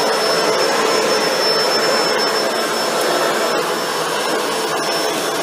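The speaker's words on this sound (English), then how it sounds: "So we'll just turn this on." A Shark NV801 upright vacuum cleaner runs steadily at close range, giving a loud, continuous broadband whoosh with a thin high whine and no talking.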